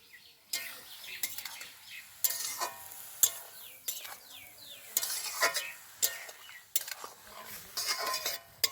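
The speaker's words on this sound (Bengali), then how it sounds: "সবজিগুলো আর একটু নেড়ে দিচ্ছি" Vegetables frying in a pan as a Bengali puti fish chorchori is cooked, stirred with a utensil: repeated scraping clinks and bursts of sizzling at an irregular rhythm, close and fairly loud, with no talk.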